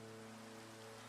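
Soft, continuous rain patters evenly throughout, faint and steady, with gentle music humming quietly beneath it.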